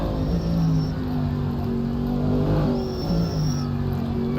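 A BMW race car in a DTM sim racing game, heard from onboard. The engine hums at steady high revs with gear-shift pitch steps, continuous and loud, with no voices.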